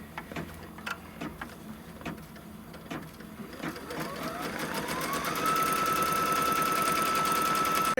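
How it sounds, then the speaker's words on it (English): Embroidery machine stitching a tack-down line to hold a smaller piece of batting onto fabric for a Kimberbell roll-up pouch: rapid mechanical stitching that starts light and uneven, then settles into a steady, louder whirring run with a sustained whine. "after it stitches that batting down"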